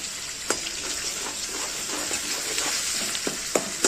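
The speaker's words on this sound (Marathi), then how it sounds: "टमाटर पेस्ट पण आहे, ते पण आपल्याला परतून घ्यायची" Tomato and garlic paste sautés in a pan for vegetable dum biryani, hissing and sizzling steadily up close, with a few sharp scrapes of a spoon stirring through it.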